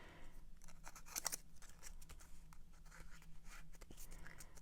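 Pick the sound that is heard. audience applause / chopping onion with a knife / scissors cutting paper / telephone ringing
scissors cutting paper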